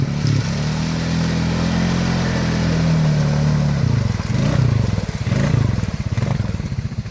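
A freshly rebuilt Honda Foreman ATV engine on 32-inch Aztex XX tires runs loud and close, a steady low drone that shifts into rough, pulsing revs with some clatter in the second half.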